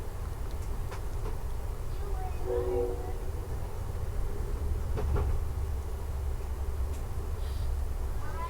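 A freight train passes a waiting Amtrak Coast Starlight near Chico, California, a continuous low rumble of rolling wagons with occasional squeals and clanks, heard from inside the stopped train.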